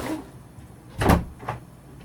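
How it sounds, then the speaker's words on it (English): A door knocks and swings open as cats push through it, giving one sharp bump followed by a softer second thud half a second later, close by in a quiet room. "the cats got through the door"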